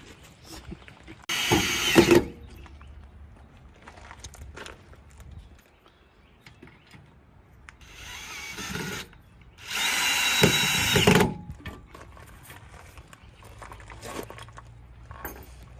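Power drill working screws out, chewing through bits, in two loud bursts of high whine separated by quieter stretches of handling and scraping.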